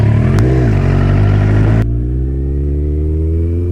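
A tow-yard motorcycle, freshly restored, idles loudly close by on its first ride, with a quick throttle blip before the engine note drops and settles into a lower steady run.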